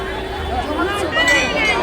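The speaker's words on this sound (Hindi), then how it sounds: "बहुत भीड़ हो चुकी है इस टाइम" Crowd chatter at the busy Kalika temple, a steady babble of many voices close around with faint clinks, under nearby talk.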